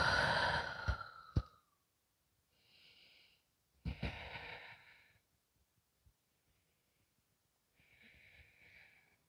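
Slow, soft exhale during a yoga stretch, heard as a few quiet breaths close to the microphone, separated by near silence.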